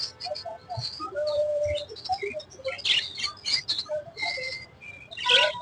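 Budgies and cockatiels at a Kolkata pet market chirp and tweet in quick, overlapping bursts, several birds calling close by with short sharp notes and a few longer whistles over a low background murmur.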